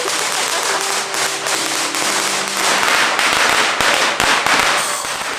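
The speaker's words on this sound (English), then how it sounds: "It was just firecrackers." Firecrackers crackle and pop in sharp, rapid bursts, loud and close, at Genting Highlands, Malaysia, over a steady background hum with a few voices.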